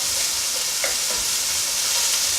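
Biryani ingredients sizzle steadily in a pot, a continuous close hiss of frying with faint stirring clinks, no voices over it.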